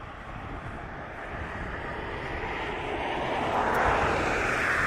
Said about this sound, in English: It's DHL, and a real nice big aircraft. It's a Boeing 767.